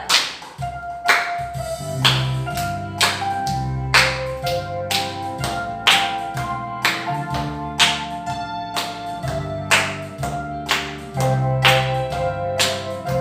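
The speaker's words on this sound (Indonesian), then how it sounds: "Ayo, sambil tepuk tangan yuk." Children clap in time to an Indonesian children's worship song, sharp regular claps landing on each beat over a loud backing track with bass and keyboard, and no one speaking.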